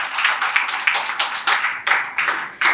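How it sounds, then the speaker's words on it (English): A small group of people claps for the participants of a group discussion, a rhythmic series of roughly a dozen distinct claps, fairly close and unaccompanied by talk. "So I really want to have a big round of applause for everybody sitting right there."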